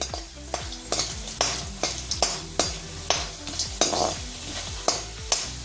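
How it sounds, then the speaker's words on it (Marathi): Stone flower spice roasting in oil in a pan for homemade masala, with a close sizzle and a spoon repeatedly scraping and knocking the pan in an uneven rhythm, no voices. "आता मी बादलफूल घालतीये।"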